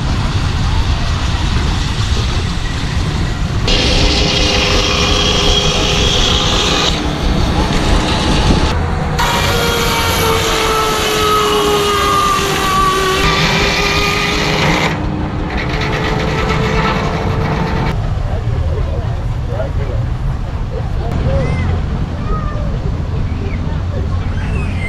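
Steam traction engines running on display in a field at a heritage steam event in Dorset, a continuous loud mechanical rumble and hiss with tonal whistle-like sounds, amid crowd chatter.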